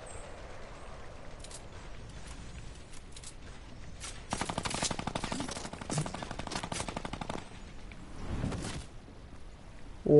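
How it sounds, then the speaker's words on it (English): Sniper rifle gunfire in a first-person shooter match, a dense run of sharp repeated shots crackling over continuous background game noise, with a louder burst near the end. "There's sniper fights going on."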